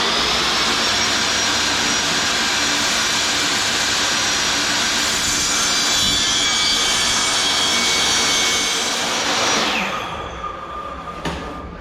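A power saw cutting rigid core vinyl plank flooring during a home installation, a loud continuous whining roar that holds for about ten seconds and then spins down.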